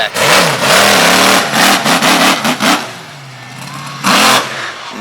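A monster truck's engine roars in loud revving bursts after leaping a stack of vans at a night arena show, rising and falling several times before a pause and one final surge.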